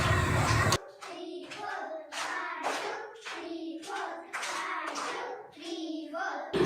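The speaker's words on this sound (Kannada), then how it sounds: "ಮಕ್ಕಳು ಚಪ್ಪಾಳೆ ತಟ್ಟಿ ಚಿಟಿಕೆ ಹೊಡೆಯುವುದರ ಮೂಲಕ ತರಗತಿಯನ್ನು ಪ್ರವೇಶಿಸಿ ವೃತ್ತಾಕಾರದಲ್ಲಿ ಕುಳಿತುಕೊಳ್ಳುವುದು" Children entering a classroom clap their hands and snap their fingers in a steady repeated rhythm, bursts of claps sounding close and fairly loud with a noisy moment at the start.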